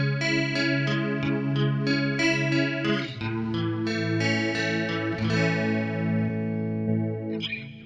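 Electric guitar played through an Electro-Harmonix Pitch Fork pitch shift pedal, giving a watery, chorus-like doubled tone; sustained chords and notes ring continuously at steady loudness, with no talking.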